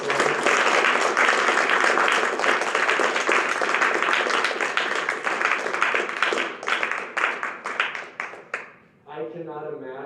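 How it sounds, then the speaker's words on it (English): Dense, sustained applause for the team captains at a cross country banquet, loud clapping that thins into scattered claps before a voice begins speaking. "let's give a round of applause to our captains for 2020."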